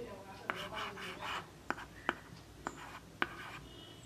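A stylus scratching across the surface of a children's electronic writing and drawing tablet, with quiet rubbing strokes and several short sharp taps, close and faint.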